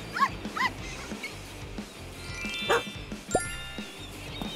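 A small dog yips and barks a few times in quick short bursts, close and clear over a steady background with light jingling, as if from a tag or leash.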